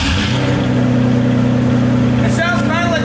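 Rough, uneven idle of a V8-swapped Jaguar engine with a ragged, broken-Ferrari character, a steady loud drone up close before a brief higher-pitched burst near the end.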